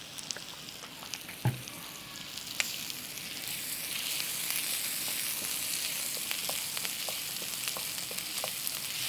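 Spice masala frying in coconut oil for a spicy fish fry, a steady soft sizzle close by with occasional stirring clicks, no talking.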